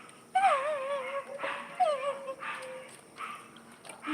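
Neo, a dog getting a bath, whimpers in several high, wavering whines, close and fairly quiet, with short pauses between cries and no talking.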